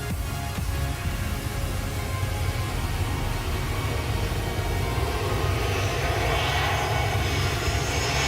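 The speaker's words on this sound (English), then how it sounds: "a plane was on final approach" A jet plane on final approach at Phuket Airport roars steadily low overhead, a loud continuous engine rumble and whine that holds without pause throughout.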